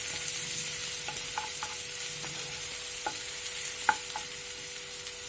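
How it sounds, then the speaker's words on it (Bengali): Crushed garlic sizzles and fries in a pan with a steady bright hiss, while a utensil stirs it, making occasional soft scraping clicks; no voices. "রসুনটা একটু নেড়ে নিয়ে"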